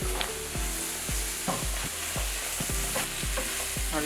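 Coriander powder roasts in a hot pan with a steady dry sizzle while a spoon scrapes and stirs in repeated strokes about every half second, close and fairly loud with no talking.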